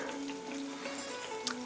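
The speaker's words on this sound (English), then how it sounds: "On the mild heat it's going to be like this, it's going to be slow bubbles." Sweet banana slices fry slowly in oil over mild heat, giving a faint, even bubbling and soft sizzle with a small pop near the end, heard alone with no talk.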